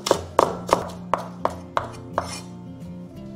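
A knife chops spring onion on a cutting board, a steady run of about ten crisp, close taps spaced roughly a third of a second apart, with a low hum underneath and no talk.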